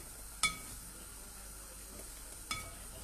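Bakso meatballs frying in a pan of oil, with a steady soft sizzle throughout and two brief clinks of a utensil against the pan, close by and with no talk.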